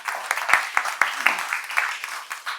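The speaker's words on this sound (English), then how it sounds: "We should give him a round of applause" A lecture audience gives a short round of applause in memory of Rayson Huang, a few scattered, fairly close hand claps with uneven spacing under a light murmur of voices.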